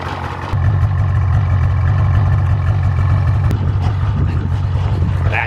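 A snowmobile engine idles up close with a steady, loud low rumble that starts abruptly and holds evenly, with a faint higher whine and a single click partway through.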